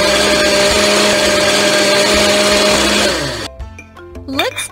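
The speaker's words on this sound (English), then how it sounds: "Now blend everything." A cartoon blender in a kids' barista video game whirs loudly and steadily while blending iced coffee with ice and milk, then winds down into a short tinkling jingle.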